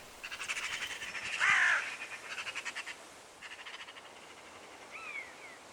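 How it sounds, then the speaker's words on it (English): Magpies call repeatedly at a corvid-filled site where buzzards are also present, giving a chorus of harsh, rattling chatter in rapid bursts, with a louder cluster of calls in the middle and fainter chatter trailing off toward the end. "how many magpies do you think are sitting there?"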